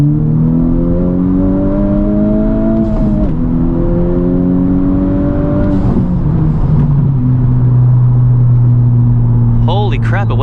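A Honda Civic Type R fitted with an aftermarket intercooler pulls hard in third gear, its engine note climbing steadily in pitch across two rising sweeps before settling into a steady cruising drone, loud and close from inside the cabin.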